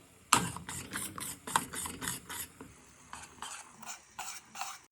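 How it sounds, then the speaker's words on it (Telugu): A spoon stirs a sweet mixture in a pan, scraping in a quick regular rhythm of rasping strokes. The strokes pause briefly, then resume, close and fairly loud with no talk. "ఇలా కలుపుతూనే ఉండాలి"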